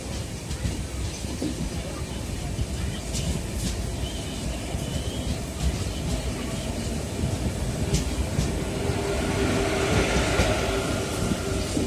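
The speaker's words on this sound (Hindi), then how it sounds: "तो ये हमारी ट्रेन है, ये अब हम लोग डिपार्चर हो रहे हैं बलहरसा से।" A passenger train pulls out of Balharshah station on the Delhi–Chennai main line, with a continuous loud rumble of wheels and carriage noise heard from on board, occasional clicks and clanks, and no talking.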